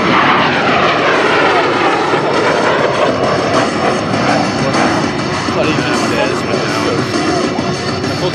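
A MiG-17 Fresco jet warbird roars loudly and continuously close by during a flying pass at the Wings Over Solano Air Show 2024, with an announcer's voice partly audible over the engine noise.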